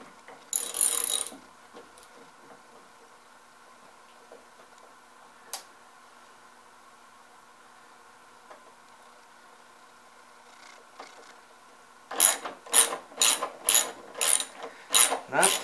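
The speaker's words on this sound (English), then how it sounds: "I go ahead and I put the bolt in" A bolt being screwed tight with a ratcheting tool while a dolly is built, a brief ratchet burst at the start, then quiet with faint ticks, and a close series of rapid ratchet clicks in rhythmic bursts at the end.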